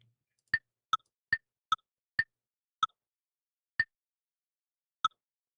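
Sharp, isolated metronome clicks sound in near silence, a handful of ticks at first evenly spaced, then spreading farther apart.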